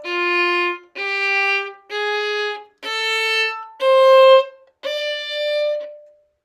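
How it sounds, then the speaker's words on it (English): Six separate sustained notes of a hexatonic blues scale in D, climbing steadily in pitch, each held just under a second with a short gap before the next, clear and alone. "We're going to focus on the six note blues scale."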